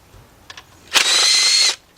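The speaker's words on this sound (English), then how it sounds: "now I got my 10mm, same 10mm, and I got my 6" 3/8 drive extension, and I got cordless impact" Cordless impact wrench on a 10mm socket with a 3/8 drive extension, working a bolt on a Volkswagen Beetle engine: a few faint clicks, then one loud, steady whirring burst of under a second.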